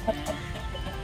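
Rooster clucking among fighting cocks raised on a farm, a few short, close clucks over a low, noisy background.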